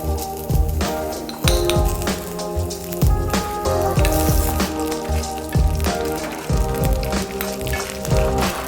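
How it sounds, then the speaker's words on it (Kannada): Garlic cloves and dried red chillies frying in ghee in a pan, a dense, continuous crackling sizzle with sharper pops and an occasional clink of a utensil, close and steady throughout. "ಮೊದಲಿಗೆ ಬೆಳ್ಳುಳ್ಳಿ ಎಸಳನ್ನು ಕೆಂಪು ಒಣಮೆಣಸಿನ ಜೊತೆ ತುಪ್ಪ ಹಾಕಿಕೊಂಡು ಚೆನ್ನಾಗಿ ಫ್ರೈ ಮಾಡಿಕೊಳ್ಳಿ."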